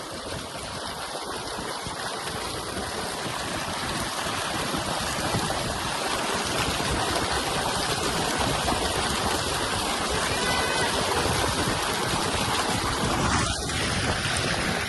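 Cold water from a solar-powered tubewell in village fields gushes over a goat being bathed, a loud, steady rushing and splashing that continues unbroken for fifteen seconds.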